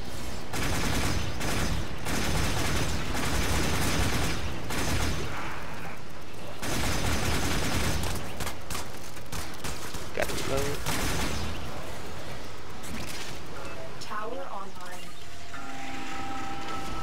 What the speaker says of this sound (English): Screw this, I'm gonna use my gun.